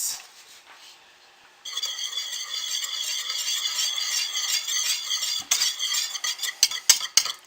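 Charcoal being stirred into soap batter with a utensil scraping and clinking against the container, a steady close-up swishing rattle with a few sharper knocks near the end.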